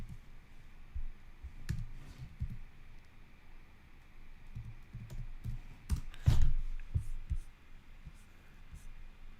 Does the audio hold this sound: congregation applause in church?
no